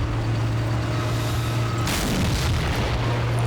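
A tank gun fires at a bunker in the World War II strategy game Men of War, one sharp deep boom with a rumbling tail cutting over a steady low engine hum.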